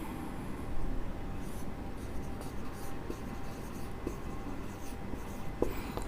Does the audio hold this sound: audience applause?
no